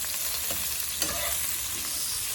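Long onions fry in a pan for an Indian-style okra dish, giving a steady, close sizzle with occasional soft scrapes as they are stirred, and no voices.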